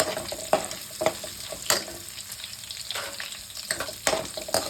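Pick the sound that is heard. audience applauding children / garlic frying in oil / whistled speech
garlic frying in oil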